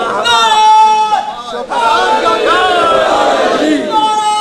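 A large crowd chants the religious slogan Haidari in loud unison, several rising shouted calls in quick succession, close and dense with overlapping voices.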